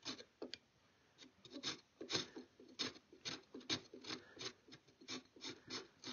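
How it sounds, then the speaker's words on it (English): A steel scraper working wood inside a mortise for a swivel breech rifle stock, a steady series of short, close rasping strokes with brief pauses between them, heard alone. "we'll do a little scraping here."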